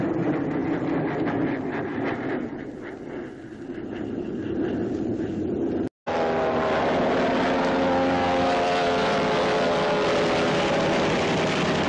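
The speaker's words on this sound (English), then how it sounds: "Smooth running, easy to fly, and practically noiseless, the Meteor leaves almost no trail of smoke." A Gloster Meteor jet aircraft flies past with a loud, sustained roar that dips briefly, cuts out for an instant, then returns as a dense, steady rush.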